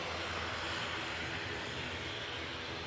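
An airliner in Isle of Man livery departing Manchester Airport for the Isle of Man, its jet engine roar a steady, broad rush heard from a distance without talk.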